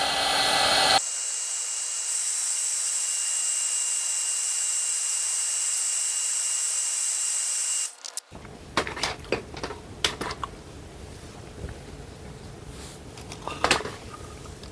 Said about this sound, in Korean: 열드라이기를 돌려본 것 같습니다